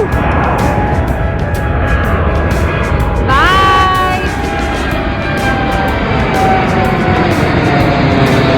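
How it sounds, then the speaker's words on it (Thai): A jet airliner at an aircraft viewing spot beside an airport in Belgium roars loudly and steadily with a broad engine rumble, and a rising whine sweeps up partway through. Someone speaks over it. "อยู่ที่จุดชมเครื่องบินขึ้นลง ที่เบลเยียมค่ะ"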